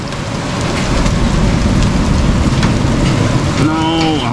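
A small storm over a homestead brings heavy rain drumming steadily on surfaces with hail mixed in, a loud continuous patter, and a voice briefly comes in near the end.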